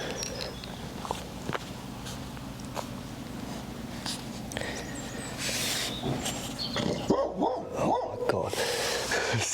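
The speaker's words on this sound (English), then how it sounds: "See what I told you about those dogs?" Dogs barking in bursts, fairly close and loud, over a steady background hum, with footsteps audible earlier; the barking grows busier toward the end.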